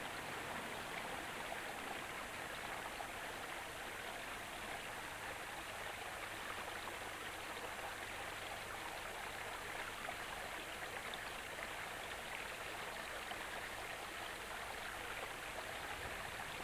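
A clear mountain river runs over stones in a steady, full rushing wash, close and even throughout with no voices.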